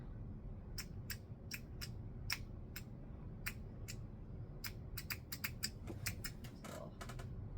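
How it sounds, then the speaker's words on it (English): Small thread snippers snipping at sewing thread beside a sewing machine, a rapid series of sharp, crisp clicks in irregular bursts, close up over a steady low background hum. "Snippers don't want to cut this thread"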